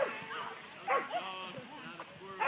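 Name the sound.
dogs barking at a dog park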